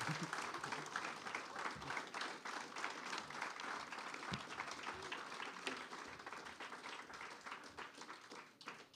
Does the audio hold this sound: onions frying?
no